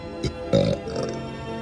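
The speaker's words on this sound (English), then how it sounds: "And then I add the burp." A man lets out a deliberate burp while breathing out through his mouth, a short voiced belch against a steady background drone.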